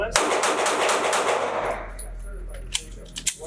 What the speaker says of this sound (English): I'm going to go as fast as I can and kind of point shoot at the target at about 6 yards